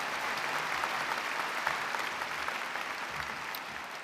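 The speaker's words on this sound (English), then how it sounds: "One more round of applause for you." Commencement audience at a business school undergraduate ceremony applauding, a soft, distant, even patter of many hands clapping that continues alone throughout.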